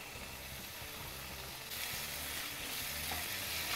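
Steady, loud sizzling of chilli paste frying in a hot pan with vegetables for chilli pasta, the crackle growing a bit stronger partway through, with no voices.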